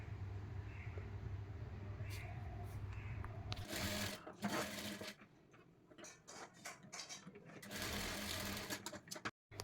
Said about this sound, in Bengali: টেকিংটা সেলাই করে হয়ে গেছে।